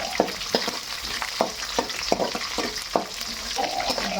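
Curry leaves crackle and sizzle in hot oil in a pan for a Telugu savory dish, with steady frying hiss broken by sharp stirring clicks and scrapes at an irregular rhythm, close and fairly loud, no voices.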